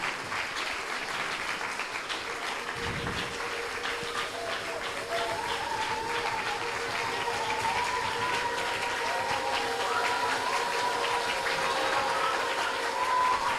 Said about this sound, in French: nous voulons que l'église là applaudisse section infantile pour travailler ça